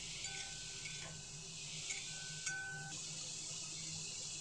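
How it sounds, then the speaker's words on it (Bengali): Tomatoes and onions frying in a pan for a Bengali spicy onion prawn curry, stirred with a soft steady sizzle and a few light scrapes and taps of the spoon, quiet and continuous. "দিয়ে আবার একটু নাড়িয়ে দিচ্ছি।"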